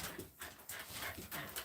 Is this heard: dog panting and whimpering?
yes